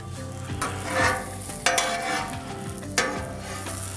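A bruschetta grilled cheese sandwich sizzling in a hot pan, a continuous close hiss with a few sharp crackles and pops rising above it, no voices.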